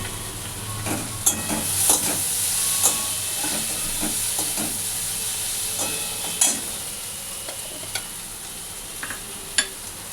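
Curry sizzling in a pan while being sautéed and stirred, a steady loud frying hiss broken by scattered scrapes and clicks of a spatula, with no talking.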